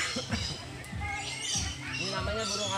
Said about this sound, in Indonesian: Nih, burung nuri.